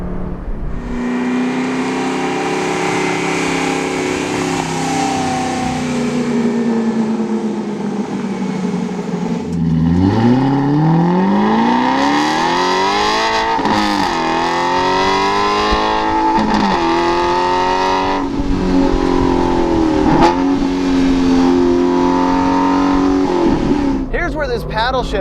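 An Aston Martin V8 Vantage S Roadster's V8 engine roars loudly and continuously on a road test, climbing through revs in long rising sweeps with sharp drops at gear changes, while someone talks over the engine the whole way.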